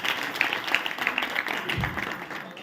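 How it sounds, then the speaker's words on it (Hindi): Audience clapping at a Hindi poetry recital, a moderately dense burst of applause in a hall, fairly close and steady with some faint murmuring underneath. "पुनः तालियां बजाइएगा, जोरदार तालियां बजाइएगा।"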